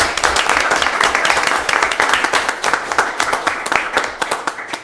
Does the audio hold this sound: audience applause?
yes